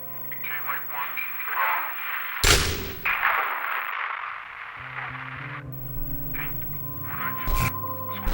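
A single sharp, loud gunshot rings out in a tense thriller scene, bursting over a background of radio static, hum and electronic tones, followed by a second softer crack near the end.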